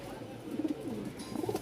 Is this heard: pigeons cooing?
yes